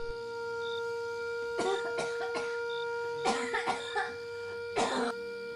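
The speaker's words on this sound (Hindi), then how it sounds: "अम्मा, तू हर रोज खांसती रहती है।" An elderly woman coughs in several fits, a few quick coughs at a time, fairly close, over a steady background hum.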